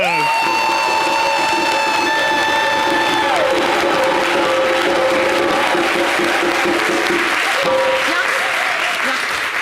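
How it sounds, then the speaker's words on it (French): A television studio audience claps and cheers loudly for nearly ten seconds, dense sustained applause with shouts and whoops mixed in. "je vous prie d'applaudir bien"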